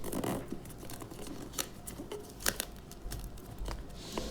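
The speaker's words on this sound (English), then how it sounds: "I would just quickly unwrap this and take the earbuds out of its" Crinkling and tearing of the packaging on an Audionic Airbuds A-20 earbuds box as it is unwrapped, with close, continuous rustling broken by sharper rips and scratches.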